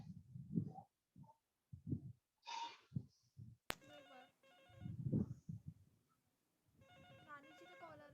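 Phone ringtone from an incoming call during a classroom accounting lecture, a repeating melodic electronic tone that cuts in sharply after some muffled low talk and plays on loudly in a steady looping pattern.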